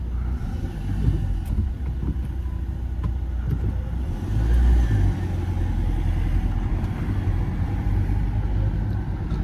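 A Ford Transit camper van pulls away, its engine a low steady rumble that swells briefly as it accelerates, heard from inside the cab with no talking.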